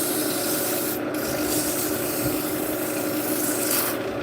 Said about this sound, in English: I think we do need to sand it up.